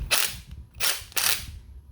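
A DeWalt 20V Max brushless impact driver fitted with a 1/2 inch adapter hammers in three sharp, loud rattling bursts, each a dense clatter of rapid impacts separated by brief pauses.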